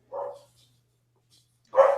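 A dog barks twice, two short loud woofs separated by more than a second of quiet, close to the microphone indoors.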